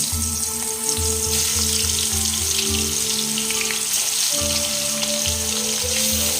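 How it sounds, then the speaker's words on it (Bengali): Small hilsa fish fry in hot mustard oil with a constant, close crackling sizzle over steady tonal music in the background. "তেলটা গরম হয়ে গেছে, এবার এই মাছগুলোকে একটু হালকা করে ভেজে নেব।"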